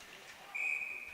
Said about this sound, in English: So we got a whistle offsides call on the Lakers.